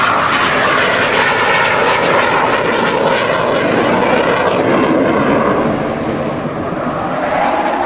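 A propeller aircraft engine drones loudly and steadily overhead at an air show near an old RAF base, with a slight dip in volume toward the end.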